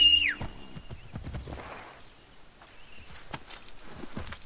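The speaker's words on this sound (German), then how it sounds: "Ja, Pferdchen." A horse walks in Assassin's Creed 3, its hooves clip-clopping in a steady, moderately loud rhythm, following a short whinny-like sweep at the start, with game ambience and no speech.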